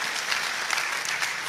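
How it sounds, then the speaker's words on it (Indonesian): A church congregation applauding for Jesus, sustained dense clapping from many hands that fills the space evenly and loudly, with no speech over it. "Kalau mau tepuk tangannya yang paling meriah buat Yesus Tuhan kita."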